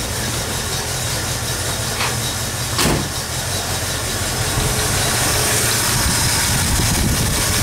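A running small block Ford V8 idles at about 750 to 800 rpm with its valves being adjusted, a steady close engine drone with a brief metallic click near the middle and no talking.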